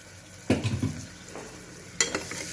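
Tamarind paste mixture frying in a pan for mattikaya pulusu, with a soft continuous sizzle and two sharper scraping stirs of a spoon against the metal. No talking.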